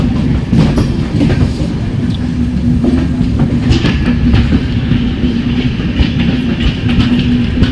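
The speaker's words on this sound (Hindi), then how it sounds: "भगत की कोठी और जम्मू तवी ये ट्रेन है।" A Bhagat Ki Kothi–Jammu Tawi passenger train rolls past close by, loud rumbling with rhythmic clickety-clack of wheels over rail joints and a faint thin squeal, continuous with no talking.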